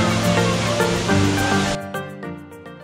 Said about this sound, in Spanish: el agua se precipita y choca con las rocas